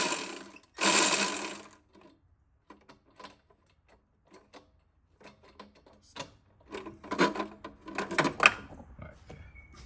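A socket wrench loosens a V-band clamp on a BMW 3 Series downpipe in bursts of quick ratcheting clicks: one loud burst early, then several shorter runs separated by quiet gaps.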